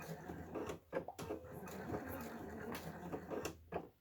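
A sewing machine stitches fabric across a line for a wristlet at a 3.5 mm stitch length, a quiet rapid mechanical whir in short runs with brief pauses, no voices.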